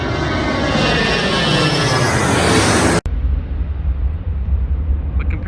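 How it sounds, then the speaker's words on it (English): A heavy water bomber air tanker flies overhead in Kamloops, British Columbia, a loud roaring aircraft engine with a sweeping pass that cuts off abruptly, followed by a quieter rumbling wash. "here he comes now, the big heavy bomber. And he's gonna fly right overhead."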